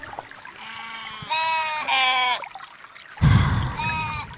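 Several human voices imitate sheep, bleating in wavering, stretched calls, some in unison and some overlapping, from a live audience; a loud burst of cheering or noise near the end.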